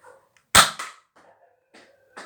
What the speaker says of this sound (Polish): powiem wam, czy daleko poleci, bo tutaj sobie strzelę